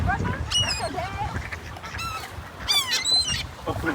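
Geese honk repeatedly at a park while being fed bread, a cluster of loud, nasal calls rising and overlapping in bursts, with a person talking faintly in between.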